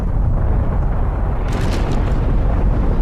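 The volcanic eruption of Vesuvius sounds as a loud, continuous, deep rumbling roar that stays powerful and unbroken from start to finish.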